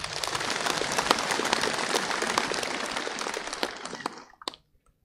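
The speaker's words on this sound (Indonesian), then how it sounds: "Tepuk kat mereka sekali." Crowd applause for district officers at a Kedah government gathering, a dense wash of clapping sustained for about four seconds before quickly dying away.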